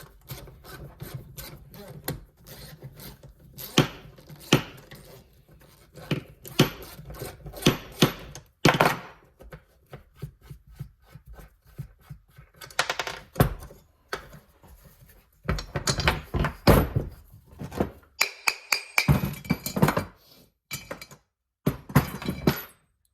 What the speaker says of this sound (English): I'm going to take the side of it off here. The compressor cover off